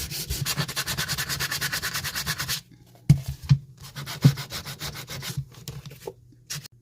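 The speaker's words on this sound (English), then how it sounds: "So now I'm going to take this sandpaper and rough up these edges" Sandpaper is rubbed by hand along the edges of a fabric heart sign. Quick, rhythmic scratchy strokes run for a few seconds, stop briefly, then resume in shorter bursts. The sound is loud and close.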